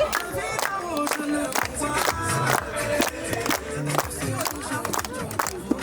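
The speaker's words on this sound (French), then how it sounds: "Allez les enfants, on applaudit." Children clap and cheer at a baptism in Amilly, making a lively, uneven patter of hands with bursts of crowd noise and voices mixed in throughout.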